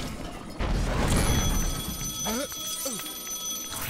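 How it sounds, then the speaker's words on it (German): Tonal electronic ringing chimes sound in the video game Lego Harry Potter Years 5-7, a couple of short repeated ring bursts over busy game noise and a rumbling crash. "Telefon!"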